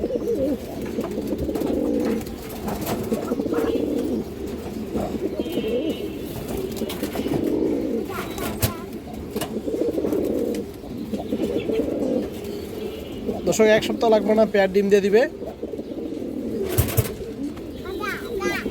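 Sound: pigeons cooing

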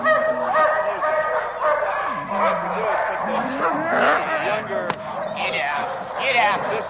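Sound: sled dogs barking before being harnessed

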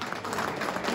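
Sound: applause

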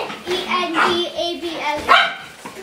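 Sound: dogs barking

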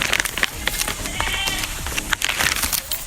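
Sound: goats bleating

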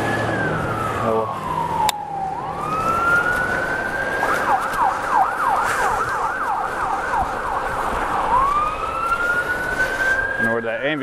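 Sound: ambulance siren passing a cyclist

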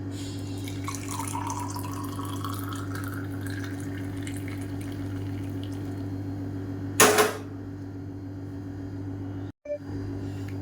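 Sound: straining boiled manathakkali (black nightshade) water

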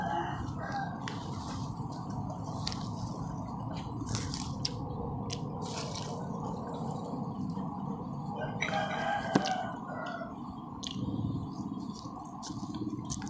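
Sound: rooster crowing

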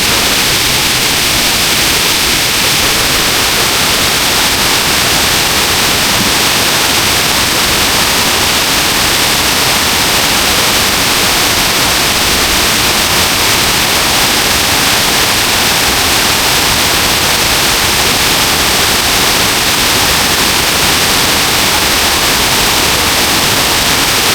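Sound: Erawan waterfall

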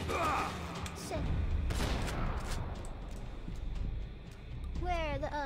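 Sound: gunfire in Max Payne 3 video game

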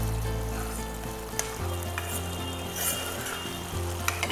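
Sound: Kashmiri chicken gravy curry simmering on the stove

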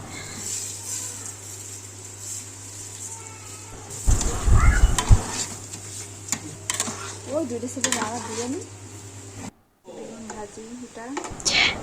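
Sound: desi chicken meat being sautéed with spices

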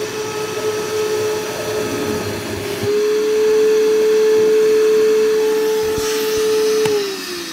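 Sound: Hercules vacuum running on corded power

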